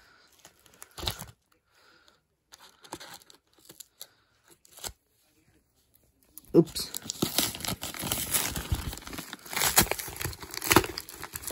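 A large mail package is cut open with scissors and torn apart: scattered soft snips and rustles first, then a loud, continuous burst of ripping and crinkling packaging close by, with a brief spoken exclamation.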